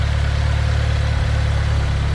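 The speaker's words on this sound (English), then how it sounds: "So it's idling on its own. The motor sounds pretty good." A DSM car engine idling by itself after a timing failure repair, a steady low rumble with an even pulsing throb, close and constant with no revving and no voices.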